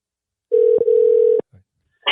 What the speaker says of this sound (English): It's ringing on the thingy that we use for the podcast.